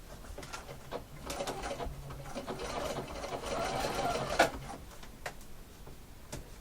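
Sewing machine stitching piping around a corner at a slow pace, with a soft, rapid mechanical whir that rises in the middle before slowing, plus a few light clicks.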